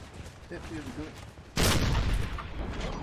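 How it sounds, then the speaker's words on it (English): Musket volley fire rolls through a video game battle in the FCN mod, a sudden loud crackling burst that erupts midway and keeps rumbling over quieter battlefield ambience, with faint voices in the first half. "he does fire a volley into it"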